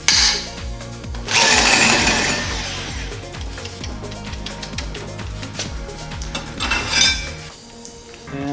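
A VersaNotcher hole saw cuts a notch into steel tubing, grinding and chattering with metallic rattles and clinks, a steady rough whir that surges louder near the start and again near the end.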